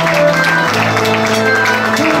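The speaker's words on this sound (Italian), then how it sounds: "Un applauso a Paolo Fiscato" Audience applause for actor Paolo Fiscato at a vampire-themed dinner event on a restaurant terrace, a steady dense wash of clapping running the whole time, with a voice and some tonal sound over it.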